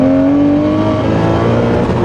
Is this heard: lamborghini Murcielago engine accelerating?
yes